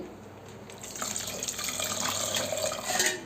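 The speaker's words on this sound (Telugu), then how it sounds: "ఇప్పుడు కొద్ది వాటర్ యాడ్ చేసుకోవాలి" Water pours from a tap or vessel into a cooking pot while preparing dal with raw mango, a close, steady splashing rush that builds after the first second and runs on with no talk.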